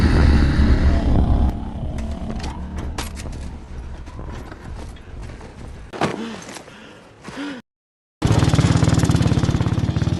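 Two soldiers' motorcycles in a war film set against Nazi troops rumble amid clattering and crashing effects, then the track cuts to a moment of silence before a loud engine roar returns.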